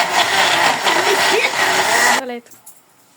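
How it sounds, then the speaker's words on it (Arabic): A blender blending tomatoes whirs loudly and steadily for about two seconds, then cuts off abruptly, leaving faint room sounds and a brief voice. "بنضرب بقى الطماطم في الخلاط اهو"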